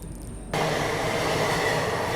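A passenger train rumbles into Patas railway station on the Hazrat Nizamuddin–Yesvantpur route, a sudden loud, steady roar of rolling wheels and carriage noise filling the clip with no talk.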